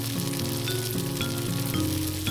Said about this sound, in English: Toast the hazelnut pieces on the pan on low or medium heat for 5 minutes until they turn brown and smell nice.